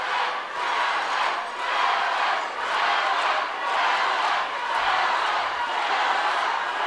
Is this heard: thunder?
no